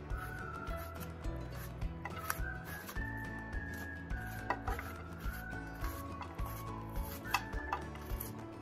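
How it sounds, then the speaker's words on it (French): A knife chops onions and peppers as finely as possible on a cutting board, producing quiet, scattered taps at an uneven pace over a faint background hum. "je vais d'abord découper oignons et poivrons"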